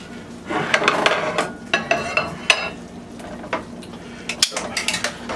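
Pork chops being lifted from a pan onto a plate, with soft clinks and scrapes of utensils against cookware over a faint background sizzle, the clattering coming in irregular bursts close by.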